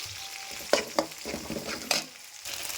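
Brain frying and being stirred in a pan, with a steady sizzle under a few sharp spoon scrapes and taps against the metal, close and moderately loud.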